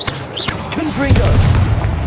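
A Confringo fire spell in Hogwarts Legacy bursts with a deep, rolling boom that swells and lingers for about a second, preceded by brief whooshing magical chirps and vocal sounds.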